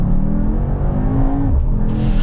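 A Mercedes-AMG GT63 S E-Performance engine revs loudly and steadily close by, the pitch rising then dipping, with a sharp exhaust crackle near the end.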